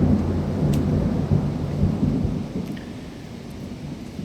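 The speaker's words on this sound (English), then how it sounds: "that thunder went cracking, boy." Thunderstorm with a deep rolling thunder rumble right after a nearby lightning strike, fading slowly over steady rain hiss.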